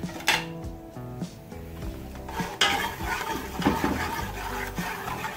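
Spices being stirred into mutton haleem in a pot while it sizzles on the heat, with repeated scraping and knocking of a spoon against the pot and a steady frying hiss beneath.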